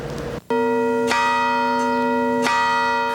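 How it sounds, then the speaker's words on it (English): The bell of St. John Berchmans Catholic Church in San Antonio tolls twice, each strike ringing out loudly with a long, humming decay that carries into the next stroke. "The bell tolling at St. John Birchman's Catholic Church isn't a signal of gloom"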